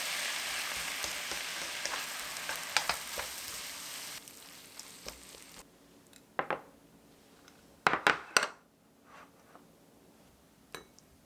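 Cabbage and other vegetables stir-fry in a pan with pepper: a steady bright sizzle that fades midway, followed by scattered clinks and scrapes of stirring, close and with no talk.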